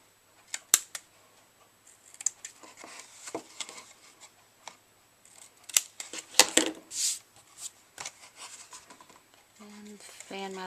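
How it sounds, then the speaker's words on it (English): Scissors trim ribbon on a Halloween gable treat box, giving a few quiet, close snips and rustles, with soft crafting handling noises between them and some light talking at the end. "So just need to trim it off."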